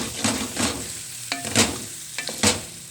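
A spatula scrapes and stirs khageena, spiced scrambled eggs, in a pan with potatoes. Several distinct scraping strokes fall over a soft sizzle, close and moderately loud, with no voices.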